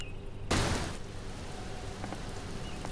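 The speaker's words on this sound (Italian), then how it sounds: "Ecco, è arrivata la pioggia nel momento giusto." Rain in the survival game Mr. Prepper starts with a sudden loud burst, then settles into a steady, soft patter of falling drops with a few faint rumbles underneath.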